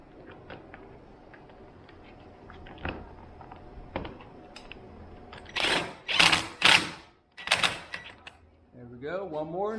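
Roof bolts being tightened with a half-inch tool on a 2021 Can-Am Maverick Sport XRC: scattered light clicks and taps, then several loud bursts of rapid ratcheting or impact whirring close by, with a voice near the end.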